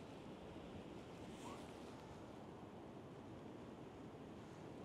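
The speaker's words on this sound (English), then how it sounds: "trying to capture some of these big waves as they come in and they break" Large ocean waves breaking on the shore near Start Point Lighthouse in Devon, a steady, loud wash of surf and rushing water with some wind noise, no voices.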